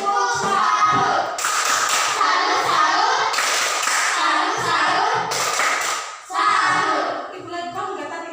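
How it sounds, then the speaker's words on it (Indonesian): A classroom of children clapping a rhythmic salute together, sharp bursts of hand claps and thumps in patterned groups close by, with brief pauses between rounds. "Tepuk tangan dulu buat kelompok 2. Tepuk salut."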